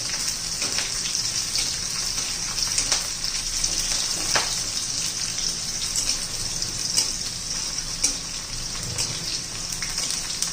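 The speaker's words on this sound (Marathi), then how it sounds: "मिरच्या चांगल्या अशा भाजून घ्यायच्यात, तळून घ्यायच्यात चांगल्या." Green chillies roasting and frying in a pan for a spicy green chilli thecha, a steady close sizzle with scattered crackles and pops running throughout.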